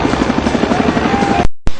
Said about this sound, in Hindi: नेवी और कोस्ट गार्ड के 2 हेलीकॉप्टरों ने मोर्चा संभालते ही 10 मिनट में नीचे खड़े सैकड़ों लोगों को वो तस्वीरें दिखाई